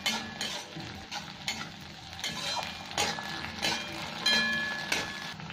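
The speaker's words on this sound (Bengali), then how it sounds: "এবার 1-2 মিনিট এটাও ভেজে নেবো, কাঁচা গন্ধটা চলে যাবে" Ginger-garlic and green chilli paste frying with onions in a pan, a close sizzle broken by rhythmic scrapes and knocks of a spatula stirring against the pan.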